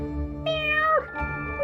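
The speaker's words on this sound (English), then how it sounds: "But then she heard some sad meows" A cat gives two plaintive meows, the first long and sliding downward, the second shorter, clear and close with no talk over them.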